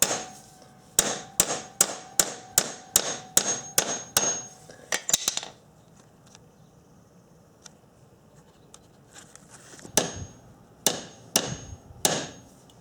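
A hammer strikes metal over and over on a socket wrench set on a seized flywheel bolt of a Honda Trail 90. About a dozen sharp, ringing clanks come in a steady rhythm, then a pause, then a few more spaced blows, close and loud with no talking.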